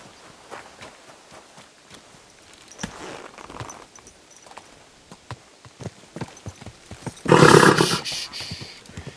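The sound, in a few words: horse in video game Kingdom Come Deliverance 2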